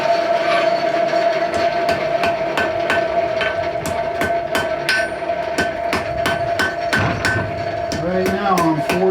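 Hot iron is forged to a point on an anvil with gentle hammer blows: a steady run of close, sharp metallic taps, each leaving a faint ringing tone, repeating for about nine seconds.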